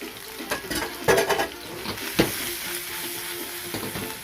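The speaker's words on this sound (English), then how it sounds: "saute the vegetables a little bit, make sure you get a little coating" Vegetables with pepper, pimento, garlic and ginger sauté in a hot pot, a soft sizzle broken by several close stirring scrapes and light clinks of a utensil against the metal.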